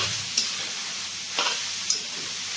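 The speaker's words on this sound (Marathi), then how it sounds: "तूप थोडंसं गरम होऊ द्यायचं आणि त्यानंतर हा किस टाकायचा। त्यानंतर त्या चमच्याने त्याला परतून घ्यायचे" Grated carrot for gajar halwa sautéing in hot ghee gives a steady close sizzle, with a few sharp clicks as a spoon stirs it through the pan; no voices.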